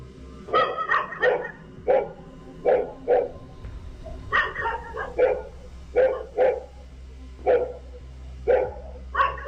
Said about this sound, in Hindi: यहां सड़क पर चलते इस शख्स को देखकर कुत्ते भौंक रहे थे